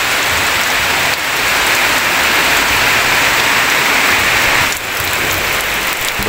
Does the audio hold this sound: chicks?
no